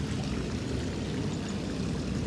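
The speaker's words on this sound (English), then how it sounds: "Got a waterfall." Steady, dense rushing of falling water, loud and continuous with no breaks, like a waterfall heard up close.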